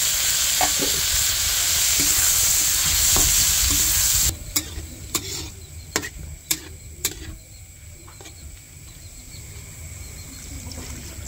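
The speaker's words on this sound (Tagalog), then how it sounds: "Lagyan ko ng pork." Pork frying in a pan for stir-fried pechay gives a loud, steady sizzle that suddenly drops to a quieter crackle, punctuated by sharp utensil clacks as it is stirred.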